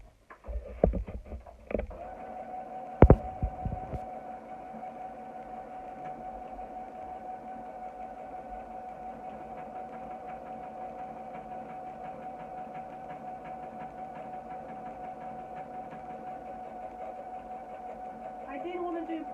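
A sewing machine running a 35 stitch with the foot down and needle dropped hums steadily and evenly for a long stretch after a few sharp clunks at the start, with a voice briefly heard early on.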